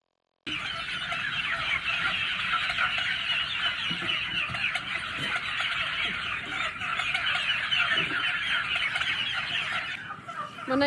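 A dense crowd of chickens clucks continuously and loudly at close range, overlapping murmurs and squawks filling about ten seconds without speech.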